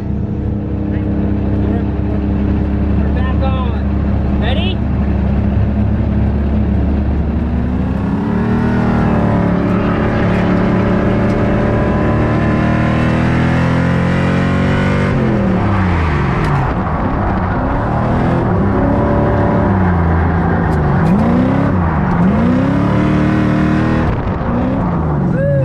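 Drift cars running laps on a skid pad at a race circuit during a drift event, engines droning and revving steadily, with pitch sweeping up and down as they slide, plus voices talking over the engine noise.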